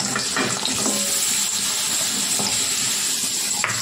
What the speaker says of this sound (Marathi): नंतर गूळ टाकते।